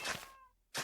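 A cat gives a short, fairly faint meow between louder bursts of noise, in a home where someone is playing a video game.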